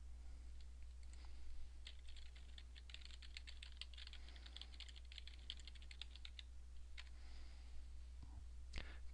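Rapid typing and clicking on a computer keyboard, a quick run of close, sharp keystrokes over a low steady hum, thinning out toward the end with a few isolated clicks.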